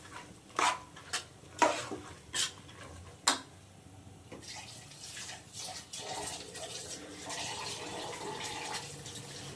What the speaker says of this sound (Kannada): ಎಷ್ಟು ಬೇಕಷ್ಟು ನೀರು ಹಾಕೊಂಡಿದ್ದೀನಿ.